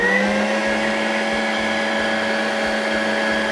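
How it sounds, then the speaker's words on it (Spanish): An electric mixer beats egg whites for a sponge cake with a loud, steady motor whine that holds an even pitch, over a low, rhythmic churning throb from the bowl. "Ahora vamos a batir estas claras 1 minuto."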